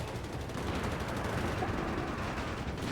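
Machine gun fire from a StuG assault gun in Company of Heroes 3, a continuous rattling burst of rapid shots over a dense wash of battlefield noise.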